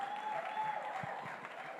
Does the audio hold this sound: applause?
yes